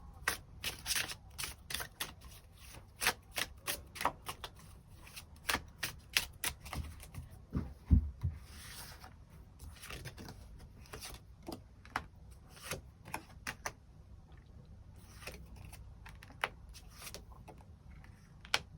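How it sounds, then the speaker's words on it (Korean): Tarot cards being shuffled and drawn, a long run of crisp riffling clicks and snaps in irregular bursts, close and fairly quiet with no talking. "그 부분 추가 카드 뽑아보도록 하겠습니다"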